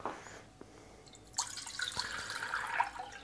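Water, 500 millilitres for a mushroom-cultivation malt extract agar recipe, is poured steadily after a few faint drips. A brief tap starts it and a stronger splashing flow follows, close and alone.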